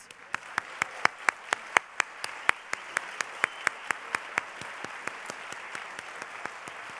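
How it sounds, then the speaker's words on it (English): A ceremony audience at Radcliffe Day 2019 applauds the medalist, moderator and speakers: crisp, evenly spaced claps stand out over a soft bed of applause, steady and moderately near, gradually thinning toward the end. "Please give a final round of applause for our medalist, for our moderator, and for our distinguished speakers."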